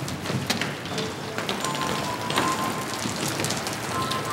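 Steady rain falling and pattering on a hard surface, a dense continuous hiss with scattered drop impacts, loud and close with no voices.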